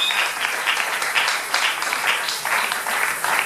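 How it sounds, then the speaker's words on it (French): A congregation applauds in a church service, steady dense clapping throughout with slight swells in intensity, no voices standing out above it. "J'aimerais que puissions acclamer cette parole."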